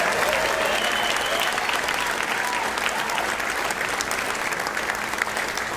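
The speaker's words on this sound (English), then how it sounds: "How about a round of applause for all three of our top finishers" An audience at a state fingerstyle guitar festival concert applauds its top competition finishers, with dense, steady clapping and crowd noise sustained loudly throughout without a break.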